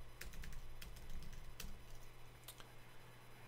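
Quiet computer keyboard typing at a terminal: bursts of crisp clicks and repeated key taps, with a few louder strikes toward the end, close up over a faint steady hum, no voices.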